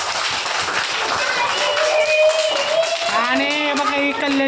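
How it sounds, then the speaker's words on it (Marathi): First-grade children in a classroom clap hard for a small classmate who won a game, a dense patter of hands with excited young voices calling out over it. "कल्याणीच्यासाठी जोरदार टाळ्या वाजवा"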